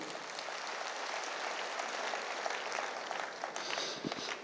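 A crowd claps steadily for guru Surya Prakash Mishra at a Blue Diamond gathering, a dense, even wash of applause sustained for several seconds with no talk over it.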